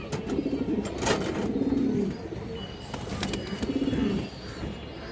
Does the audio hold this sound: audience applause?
no